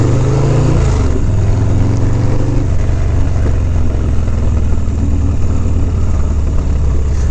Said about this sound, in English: A lot of stop and go, a lot of cars, a lot of obstacles.